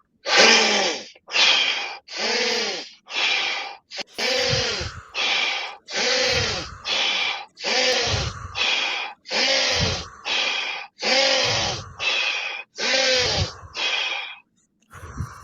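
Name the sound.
forceful breathing in through nose, out through mouth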